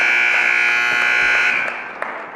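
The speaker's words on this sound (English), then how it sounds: "And that'll be the buzzer." An electronic buzzer sounds at a high school wrestling match in a gym, a loud sustained tone that holds for about a second and a half, then drops away, leaving crowd noise and a few sharp knocks.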